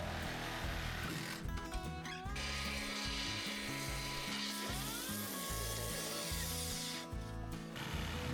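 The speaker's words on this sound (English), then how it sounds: "The big saw only cuts about 6 inches deep, so we use the sawzall to finish the cut." A sawzall reciprocating saw finishes a cut through a wooden beam for a lean-to barn, giving a loud, continuous close-up buzzing rasp whose pitch shifts partway through as the blade works deeper into the timber.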